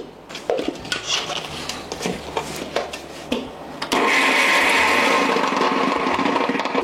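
Close-up spoons and utensils clatter against a mixer grinder jar, then a loud, continuous whirring roar starts as the mixie grinds coconut, tamarind and salt for coconut chutney.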